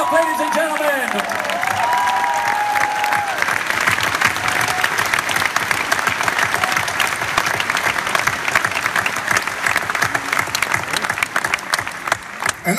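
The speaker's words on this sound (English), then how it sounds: "another big applause for our fantastic conductor" Loud, dense applause from a concert audience honoring the conductor at a show, sustained and steady throughout, with a brief stretch of voice at the start.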